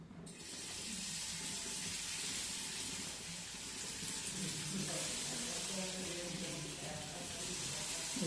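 Paneer pieces sizzle in hot oil in a pan for paneer manchurian, a dense, even hiss close by that holds steady, with a voice speaking faintly underneath.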